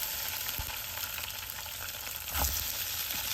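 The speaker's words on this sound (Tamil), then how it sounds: "இப்போ இந்த டோஃபுவை இந்த ஒரு கரண்டி எண்ணெயில் நல்லா பொன்னிறமாக வர வரைக்கும் பொரிச்சு எடுக்க போகிறோம்." Tofu fries in a spoonful of oil, giving a constant close hiss with a few soft scrapes and a brief louder clatter near the end, with no talking.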